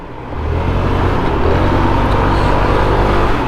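A SYM 125cc motorcycle engine drones steadily and loudly, rising in the first half second, as the bike pushes past slow cars on a road with continuous traffic and wind noise around it.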